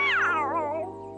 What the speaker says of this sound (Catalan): Ja saps que a les obres no hi poden entrar, gats, Misha.